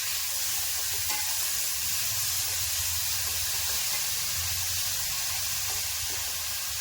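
Mango rice sautéing in a pan, a loud continuous sizzle and hiss of frying with faint stirring underneath, close and steady throughout and free of talk.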